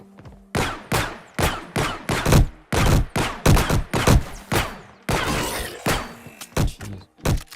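Rapid pistol gunfire from an Unreal Engine video game rings out in a loud, close string of sharp shots, some spaced and some in quick bursts, with no talk over it.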